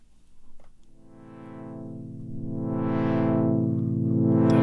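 A dub techno chord on a Waldorf Iridium synthesizer with a slow, linear amp attack swells gradually from quiet to full over several seconds, its filter sweeping up and back down while the tone stays sustained and alone.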